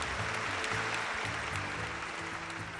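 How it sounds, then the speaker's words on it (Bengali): A studio audience at a Bengali family game show bursts into steady, sustained applause, a dense wash of clapping with faint music tones running underneath. "জোরে হাততালি"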